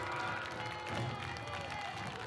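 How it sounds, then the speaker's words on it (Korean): Students at a school send off exam takers with a steady wash of applause and cheering, a crowd roar held under a continuous voice talking over it. "박수와 환호로"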